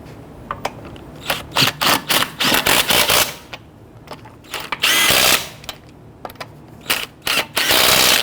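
Power-tool bursts snugging lug nuts onto a 2011-2017 Nissan Quest wheel, a series of short, loud, rattling impact runs separated by brief pauses, close by with no talk.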